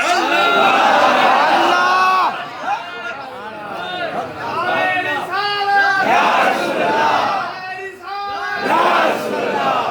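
A large crowd at a religious gathering in Jhelum chants slogans in loud, rhythmic bursts of many voices, rising and falling in waves with brief gaps between shouts.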